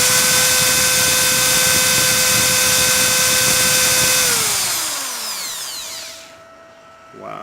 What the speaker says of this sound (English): this is the drill, the 3 ampere drill